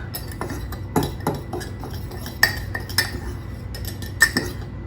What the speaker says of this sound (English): Give it a real good stir up with the fork.